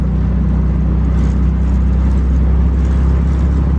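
1972 Volkswagen Thing driving at 30 mph in fourth gear, a steady low engine drone and road rumble heard from inside, constant and fairly loud with no talk.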